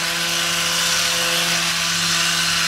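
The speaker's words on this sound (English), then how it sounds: "Got my cordless sander." Cordless sander working a wooden brace on a small stand: a steady, loud motor whine with a broad abrasive hiss, continuous and close, with no pauses.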